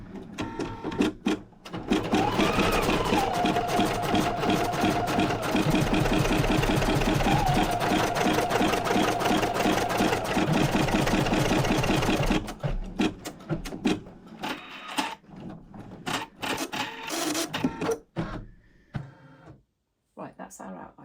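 Embroidery machine stitching an outline around a scroll design: a loud, steady, rapid mechanical chatter runs for about ten seconds, then stops, leaving quieter scattered handling noises.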